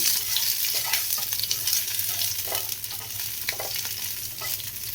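Deseeded green chilies stir-fried in a pan with bottle gourd, a loud, continuous sizzle broken by scraping stirs and small crackles, close up and without any talk.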